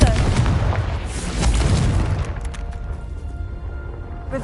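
Fiery Confringo spell blasts in Hogwarts Legacy burst loudly one after another, booming explosions rolling across the first seconds before fading into a softer rumbling tail.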